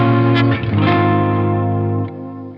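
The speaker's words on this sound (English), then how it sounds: "this really cool clash between the really nice soft ambient textures with the top 5 strings" A stock electric guitar tuned to drop D rings out sustained ambient chords on its top five strings through a chorus effect, with a shimmering, layered tone that fades slightly toward the end.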